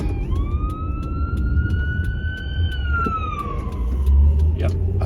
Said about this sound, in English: I always give wide room for the ambulances